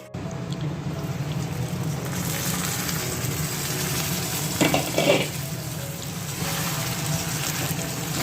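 Mango pickle with jaggery simmering in a covered pan, a steady, close bubbling sizzle that runs unbroken throughout, with a brief clatter near the middle.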